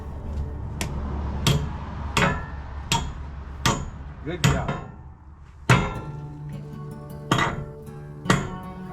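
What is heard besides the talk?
hammering a half-inch wedge anchor into a barn post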